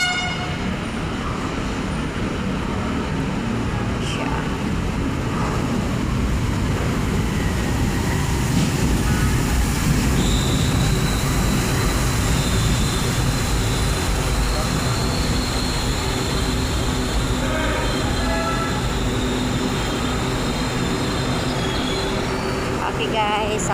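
Riding aboard a light rail LRT train, a loud continuous rumble of wheels and motor carries through the whole ride, with a squealing wheel tone rising for a while midway and faint voices underneath.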